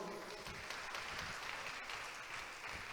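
A church congregation clapping together in sustained applause for the Lord, a dense, even roar of hands filling the room.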